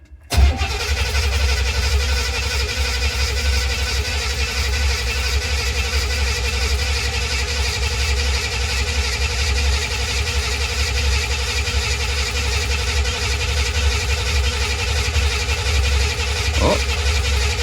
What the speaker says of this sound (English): Let's crank it again, see if we get some oil pressure.